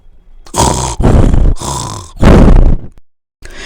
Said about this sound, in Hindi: लेकिन अफीमी लाल अपनी आदत से मजबूर वहीं खर्राटे मारने लगा।